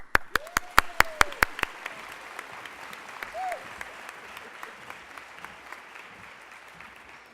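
An audience applauds to welcome a speaker from the W.K. Kellogg Foundation at an early childhood care event, with a burst of clapping at the start that quickly thins out to scattered claps and then a quiet room.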